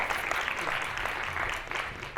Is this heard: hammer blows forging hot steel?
no